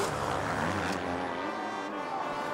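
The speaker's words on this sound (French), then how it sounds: "Et puis un coup de gaz sévère." An MX2 motocross motorcycle engine revs hard under full throttle out of a corner on a race track. The whine is loud, close and high-pitched, holding steady at high revs.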